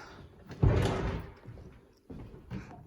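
A kitchen cabinet door is pulled open with a clear thump and then knocked shut again a moment later, close and moderately loud in a quiet room.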